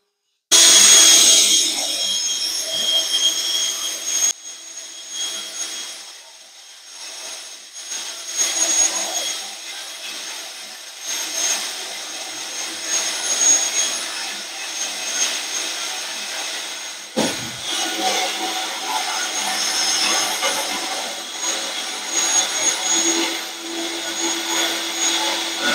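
A cordless power drill runs steadily with a whine during go-kart construction, continuing for most of the stretch with brief dips and one sharp knock midway, with no talk over it.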